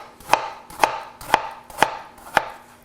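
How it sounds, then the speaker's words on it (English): A knife chops an onion finely on a cutting board while preparing Indian chicken saag: five sharp, evenly spaced chops about half a second apart, close and distinct, with no talking. "Since I'm not going to puree this, I'm going to cut it up somewhat fine."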